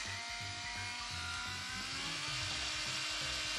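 A small electric nail drill bought from AliExpress runs at speed, giving a constant, faint high whine with a low, regularly pulsing hum beneath it and no talking.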